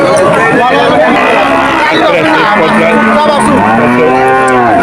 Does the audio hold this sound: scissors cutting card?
no